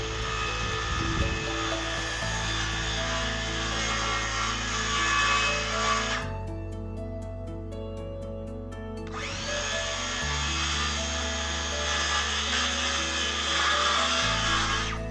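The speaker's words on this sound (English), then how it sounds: "I need to cut out the backboard." A power saw cutting out a wooden backboard for a puzzle frame: a loud, steady high whine running for several seconds, a short pause, then a second long cut, close and with no speech.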